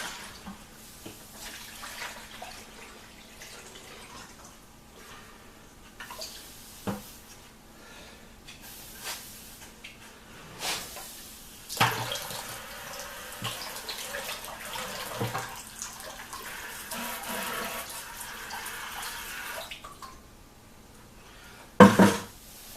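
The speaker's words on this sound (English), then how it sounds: "We'll change this nasty water out for some relatively clean water, and we'll get to panning." Water being poured out and changed in a gold panning tub during winter prospecting, heard as irregular splashes and sloshing with occasional knocks and clatters, fairly close and moderately loud, with no voices.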